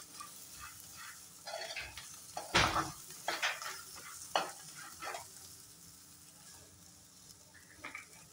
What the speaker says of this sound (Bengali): এখন আমি 2-3 মিনিটের মতো সুন্দর করে ভেজে নেব